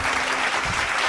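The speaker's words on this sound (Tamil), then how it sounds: "கைத்தட்டுங்க ஒருத்தவருக்கு." A church congregation at a Tamil Sunday service breaks into applause, a dense, loud burst of clapping filling the room without pause.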